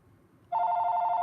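A telephone rings with a sharp, loud electronic tone that starts abruptly after a quiet moment and keeps sounding steadily, close by.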